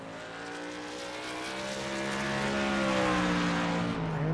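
A race truck engine drones steadily through a lap in a truck-series racing video game, its pitch rising and falling through the turns, loud and continuous with no talk over it.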